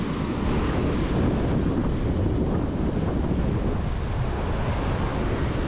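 Ocean waves break continuously on an eroded sandy beach in Cozumel, a dense, loud surf roar with heavy wind buffeting and no pauses.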